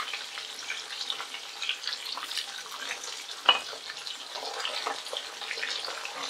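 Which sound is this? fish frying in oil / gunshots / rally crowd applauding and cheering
fish frying in oil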